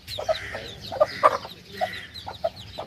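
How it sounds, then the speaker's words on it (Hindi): A hen sitting on eggs gives a series of soft, close clucks, about half a dozen spaced irregularly over a quiet farmyard background. "मुर्गी भी अंडों पे बैठी हुई है।"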